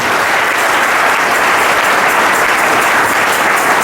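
A church congregation applauds in steady, dense clapping that fills the room, loud and close, without any pauses or voices standing out.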